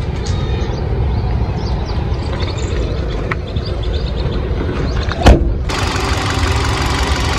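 The 1.2 litre four-cylinder engine of a Hyundai Venue S runs at a steady idle, a close, continuous low rumble with one sharp click partway through, followed by a brighter hiss, with no voices.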